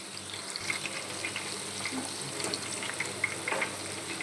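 Chicken pakodi pieces frying in hot oil on a low flame, a steady continuous bubbling sizzle with faint crackles, fairly close and alone with no voices.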